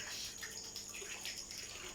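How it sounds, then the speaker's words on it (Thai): Small waterfall pouring into a concrete crayfish pond at a home, a steady close-up splashing and trickling of water running continuously without pause. "อันนี้ก็น้ำตก บ่อกุ้ง"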